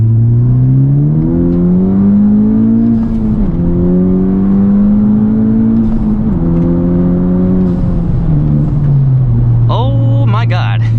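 A tuned Honda Civic Type R with an aftermarket downpipe accelerates hard in second gear, heard from inside as a loud engine note that climbs in pitch through several pulls before easing off, with a voice talking over it.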